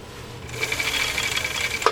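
A Husqvarna Viking Type 21 sewing machine stitching leather, starting after a brief quiet moment and running in a steady rapid mechanical whir close by, ending with a small clack.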